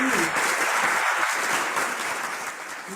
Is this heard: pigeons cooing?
no